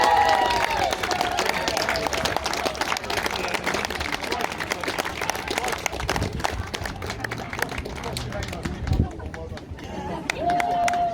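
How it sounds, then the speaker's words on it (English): Broad, steady clapping from an audience at a cardboard boat race prize-giving in Plymouth fills the whole stretch, loud and continuous, with crowd noise mixed in. "Let's give them a round of applause."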